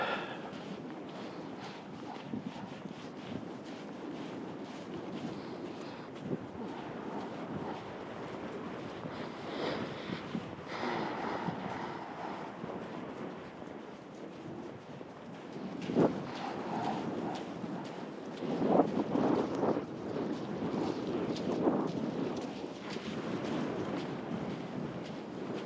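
Ocean waves rolling onto a long Icelandic black sand beach, a low, continuous roar that swells and recedes, mixed with buffeting gusts of wind across the microphone.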